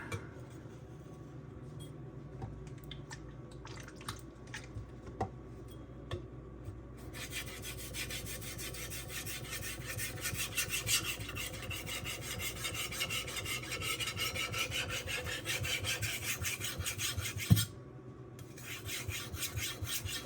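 A knife blade is stroked across a Suehiro Debado 600 and 1500 grit whetstone, giving a quiet, steady rasping scrape with faint rhythmic strokes and a small clack near the end.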